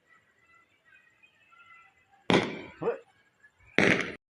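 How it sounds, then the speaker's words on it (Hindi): Firecrackers bursting outdoors, two loud sharp cracks with a smaller pop between them, following a stretch of quiet background; a voice exclaims briefly. "अब फूटना बंद हो गए पटाखे बहुत सारे फूटे"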